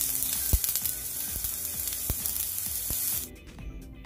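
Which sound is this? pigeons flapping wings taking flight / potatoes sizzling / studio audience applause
potatoes sizzling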